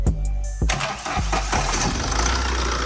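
A Tata diesel engine, just fitted with repaired injectors on cylinders three and four, cranks briefly with a few quick clicks and then catches, settling into a loud, close, steady running rumble.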